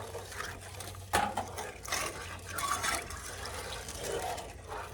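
Water poured from a cup into a pan on the stove while a strawberry pie filling is made, a soft liquid splash and trickle set against low kitchen hum, fairly faint and close.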